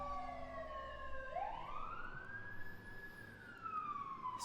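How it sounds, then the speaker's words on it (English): Emergency vehicle sirens wail along a downtown street, a rising and falling electronic tone sweeping up and holding before dipping, fairly loud and continuous over steady traffic rumble, with no talking. "I'm so sorry if those sirens are loud."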